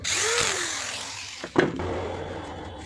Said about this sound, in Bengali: ঢাকনাটা লাগানো হয়ে গেলে যে 3টি স্ক্রু আছে আমরা স্ক্রুগুলো টাইট দিয়ে দেবো।